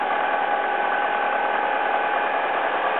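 A 2001 Alfa Romeo 147 T Spark engine drones steadily and evenly at a constant level throughout with no revving, idling close by after a jump start.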